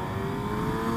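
A motorcycle accelerates hard on a road, a loud rising engine roar with strong whine, close and continuous for a second, no voices.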